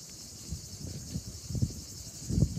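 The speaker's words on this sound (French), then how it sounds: "on a énormément de cigales aussi." A constant shrill drone of cicadas, many insects buzzing together without pause, over soft low wind rumble and faint rustling.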